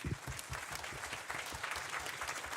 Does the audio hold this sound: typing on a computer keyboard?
no